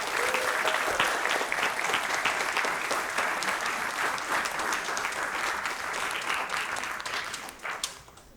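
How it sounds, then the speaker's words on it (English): Large audience applauding at a graduation commencement ceremony, a sustained wash of many hands clapping at close range that thins and fades in the last second. "please join me in giving everyone involved a big round of applause"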